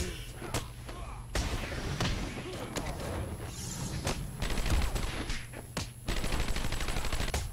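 Gunfire in a Batman: Arkham Asylum game scene, a run of sharp bursts and thuds spread across the stretch over steady game ambience and music, fairly loud and close.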